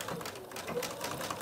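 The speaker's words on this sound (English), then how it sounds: "now I'm going to sew along this raw edge" A sewing machine stitching along the raw edge of folded fabric, a fast steady whirring patter running throughout, close and even.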